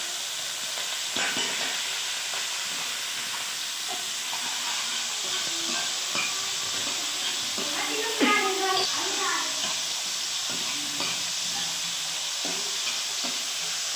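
Onion, ginger and garlic frying together in a pan, a continuous hissing sizzle with intermittent stirring clatter, as a person talks over it.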